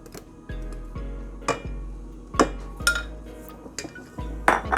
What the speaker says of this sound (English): just mix it in. More chocolate